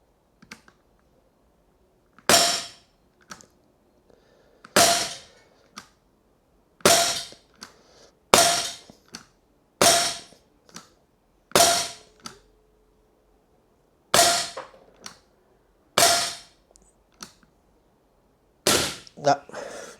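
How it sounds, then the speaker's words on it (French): An ASG CZ P-09 blowback 4.5 mm air pistol is fired at a target, giving about eleven sharp, loud cracks with clattering slide action, spaced irregularly a second or two apart, with quiet gaps between them. "Donc je tire sur la cible au milieu pour commencer."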